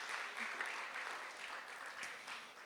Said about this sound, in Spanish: Para ella pido un fuerte aplauso de bienvenida